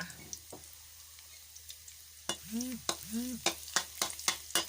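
Garlic fries quietly in a pan, a soft background sizzle punctuated by sharp utensil clicks and scraping taps against the pan, with a couple of brief squeaky rubbing sounds in between.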